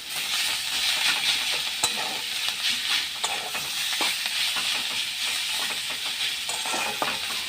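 Betho greens stir-fried in hot oil give a continuous crackling sizzle, broken by irregular scrapes and clicks of a spatula turning the leaves in the pan.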